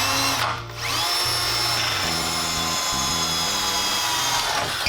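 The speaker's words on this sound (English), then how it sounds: "take the drill, come back in" A power drill bores holes for light bar brackets on a 2005 Dodge Ram 5.9, the motor whining steadily close by with pitch shifts and a brief dip as the bit bites, running almost continuously.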